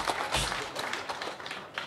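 Crowd of machinga traders in Dar es Salaam clapping for their regional chairman, a brief burst of close, dense applause that stays fairly even throughout.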